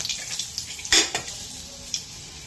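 Panch phoron whole spices frying in hot oil in a kadai while making a vegetarian brinjal dish, a soft steady sizzle with brief crackling spikes and a faint stir of a utensil, close and alone.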